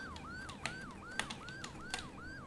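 A police siren in a crash town video game wails in repeating rising-falling sweeps, steady and moderately quiet, with occasional sharp clicks and knocks over it.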